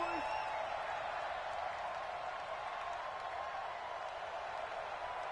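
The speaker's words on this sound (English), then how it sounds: "The crowd here in the Dome making things difficult." A stadium crowd in a domed arena in the football video game Madden 20 gives off a dense, steady roar of cheering and applause that holds at an even level throughout.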